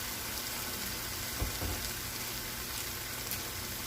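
Orange sesame steak stir fry with onion and pepper sizzles steadily in a hot pan, a constant close frying hiss with one or two faint stirring knocks.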